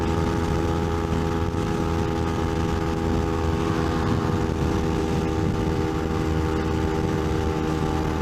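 A Kawasaki Ninja 250 motorcycle climbs a big bridge hill, its engine droning steadily and loudly over constant wind rush for the whole stretch, with no letup in the sound.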